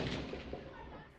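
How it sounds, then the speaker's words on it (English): Gunfire echoing through West Kingston, Jamaica, during a night clash between police and gunmen; a dense, rumbling wash of distant reports rolls on continuously, with a few sharper pops rising out of the reverberant din. "Gunshots echoing in West Kingston."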